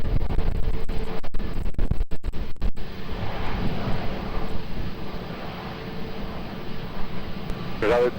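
An airliner goes around on a missed approach at Lisbon Airport, its engines giving a steady, rumbling roar for about eight seconds, with radio voices talking over it.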